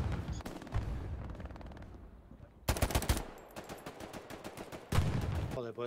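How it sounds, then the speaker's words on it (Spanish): Rapid bursts of automatic gunfire in the video game Hell Let Loose, in battle at the Remagen bridge, crackle in dense volleys, pausing briefly before resuming loud and close amid a noisy background. "escucho disparos y no sé desde dónde"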